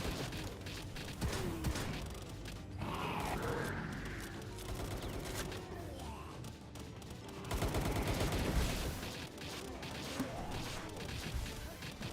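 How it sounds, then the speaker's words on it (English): A shotgun in the video game Palworld fires again and again in quick, punchy blasts, loud and up front, mixed with crashing impacts and game effects. "Just gonna use this shotgun until all the shells are gone."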